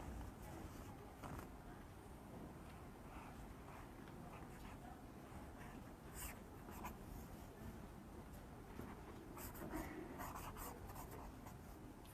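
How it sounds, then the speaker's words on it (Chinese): A pen scratches across a greeting card as New Year wishes are written during an interview, a quiet, continuous close-up scribbling with light rubbing strokes. "那我们最后就来在这个卡片上写下我们的祝福"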